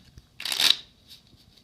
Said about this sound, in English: A deck of cards. Hopefully these cards are completely mixed